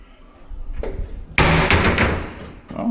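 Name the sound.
door stopper being pushed down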